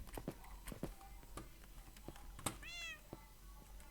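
A Minecraft cat gives one clear rising-and-falling meow amid scattered clicks and footsteps, fairly quiet and close.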